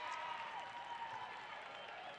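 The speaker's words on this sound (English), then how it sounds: "the chance to get clapped off for the efforts this year" Crowd applause in a gym at a girls' high school basketball quarterfinal as players come off the floor, a steady, soft wash of clapping lasting throughout with a faint tone underneath.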